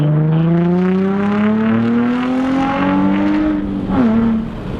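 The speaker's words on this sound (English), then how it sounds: "I feel like the exhaust itself is just extremely overwhelming." A Nissan 350Z with a straight-pipe exhaust revs loudly and close up, its engine note rising steadily through the rev range and dipping near the end before settling again, with no talk over it.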